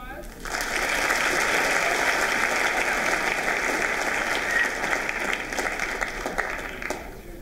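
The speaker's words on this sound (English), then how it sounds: "give a round of applause" An audience breaks into a round of applause, a dense wash of clapping that swells quickly, holds steady for several seconds and thins slightly toward the end, heard from within the room.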